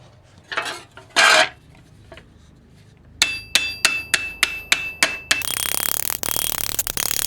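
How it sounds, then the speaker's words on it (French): A large ball-peen hammer strikes metal to texture it, giving a rapid run of about seven sharp, ringing metallic blows, then dense clattering hits, preceded by a couple of scraping sounds. "je vais utiliser mon plus gros marteau à boules et juste frapper tout autour"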